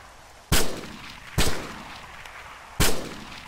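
Three loud, sharp weapon shots fire in Arma 3 about a second apart, each with a sudden crack and a decaying tail, over a low ambient background.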